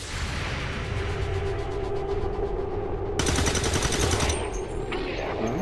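Gunfire in XCOM 2: War of the Chosen: rapid automatic bursts and shots over a dense rumbling battle bed, with a bright sustained volley cutting in partway through, loud and close.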